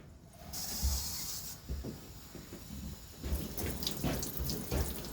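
Water sprays and hisses from a pressure vacuum breaker that fails to seat. A continuous rushing stream is broken by a few gurgling, clattering surges.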